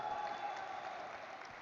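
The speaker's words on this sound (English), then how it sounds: "Big round of applause for everybody sitting out here." Audience applause fills a room at a stock exchange listing ceremony, a faint, even wash of clapping that holds steady throughout the short stretch.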